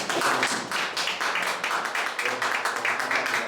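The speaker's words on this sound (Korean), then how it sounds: "격려 박수 부탁드립니다" Applause from a prayer-meeting group welcoming two new members, a steady dense patter of many hands clapping together close by for the whole stretch, with no talk over it.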